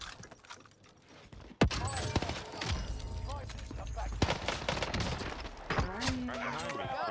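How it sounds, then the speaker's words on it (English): Tommy gun fire in the video game Warzone on Rebirth Island: a sharp opening shot, then rapid automatic bursts and clattering mechanical effects, loud and close, with a voice talking over the action. "Oh my god, this Tommy gun is insane."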